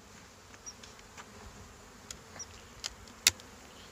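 Honey bees buzz in an opened hive during spring walk-away split work, a faint steady hum with individual bees zipping close past the microphone, one briefly loud.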